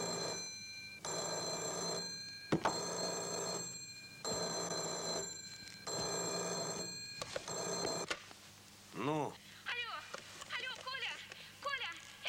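An old-fashioned telephone bell rings in four long bursts with pauses between, fairly loud, then stops; afterward faint chirping and rising electronic tones follow.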